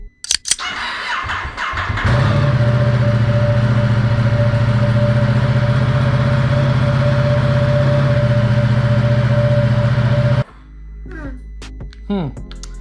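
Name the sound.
Ducati Diavel 1260 S motorcycle engine starting and running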